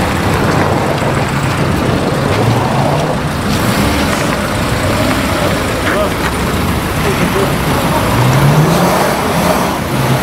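A car driving through a pedestrian zone in Voronezh, its engine a steady close rumble with a slight rev, heard under ongoing loud talk inside the vehicle and street noise.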